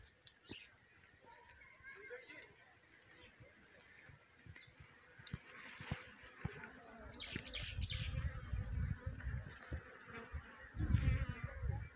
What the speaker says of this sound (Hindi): ये देखो यहाँ फिर भी रह रखी है मधुमक्खी